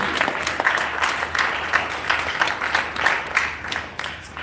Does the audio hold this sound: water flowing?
no